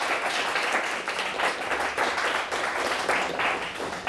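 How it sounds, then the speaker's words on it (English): Applause for two teams at the end of a televised high school quiz match, Alma vs Shepherd, with a continuous round of close, fairly loud clapping throughout. "Nice round of applause for both teams here tonight."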